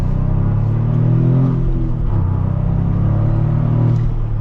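A Toyota GR Corolla's turbocharged engine pulls under acceleration in a manual hot hatch, a steady loud rumble and drone from inside the cabin with a brief shift dip midway, no voices.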